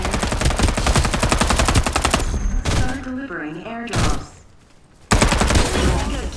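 Machine gun fire in the battle royale shooter Farlight 84: loud, rapid automatic bursts in long runs that break off briefly for a voice and a tonal game effect, then resume.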